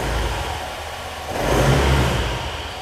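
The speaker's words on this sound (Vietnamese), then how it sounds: "bây giờ mình kéo tay ga lên cho các bạn coi nè" A fuel-injected motorbike engine idles, then revs up as the throttle opens, its close mid-pitched roar rising about halfway through and easing slightly toward the end.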